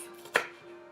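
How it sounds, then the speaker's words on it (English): A chopping-style kitchen knife comes down once on a cutting board in a single crisp, close thud-click, surrounded by a faint steady hum and no speech. "this one is more of a chopping type of knife"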